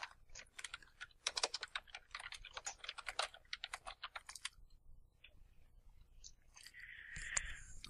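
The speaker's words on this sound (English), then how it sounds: "Lots of angry typing from you" Rapid, uneven typing on a computer keyboard, close and crisp clicks in bursts that pause midway before a few more taps and a brief rustle near the end.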